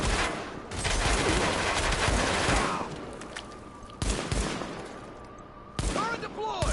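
Rapid bursts of automatic gunfire and shooting in Tom Clancy's The Division, loud, dense volleys with brief pauses, mixed with game effects and occasional voice callouts.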